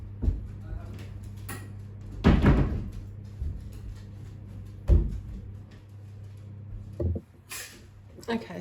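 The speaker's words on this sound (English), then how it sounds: "I just had to close the door." A door closes in a room with a couple of dull thumps and knocks among quieter handling noises and shuffling.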